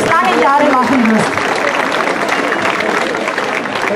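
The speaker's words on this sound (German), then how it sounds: "Einen ganz, ganz kräftigen Applaus für dich" Audience applause at the Kronenfest festival in Augsburg, a steady wash of clapping from a crowd that starts under a speaking voice and then carries on alone at a fairly loud level.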